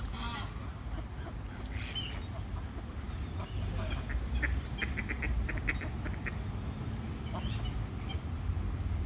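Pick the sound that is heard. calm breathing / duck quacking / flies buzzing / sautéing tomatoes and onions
duck quacking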